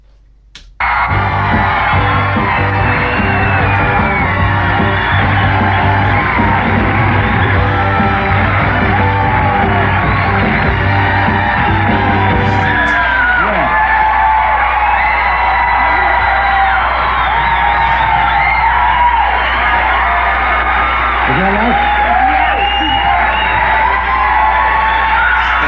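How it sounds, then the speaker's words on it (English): A Tonight Show studio audience from 1987 cheers, yells and whoops loudly and steadily throughout, a dense crowd roar that continues with no break. "They're still cheering the monologue."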